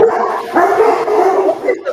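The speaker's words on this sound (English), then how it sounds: "Are those big dogs? Yes, they're Bernese Mountain Dogs." Big Bernese Mountain Dogs barking and yipping in a continuous, fairly loud run of vocalizing with brief whimpers, close to the listener and with no talk over it.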